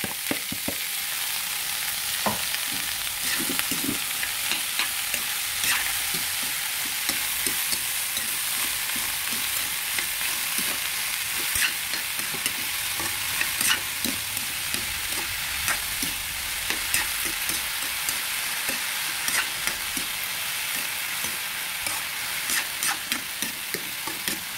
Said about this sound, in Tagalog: Gigisa na ang upo.